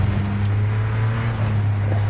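A 2017 Ford GT engine in the Gran Turismo racing game holds a steady low drone at constant revs, loud and continuous with no voices.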